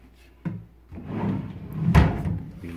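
A large, deep drawer slides in a chest of drawers in a furnished apartment bedroom, with a wooden knock followed by a rumbling glide. The motion ends in a firm thump near the end, all close and fairly loud.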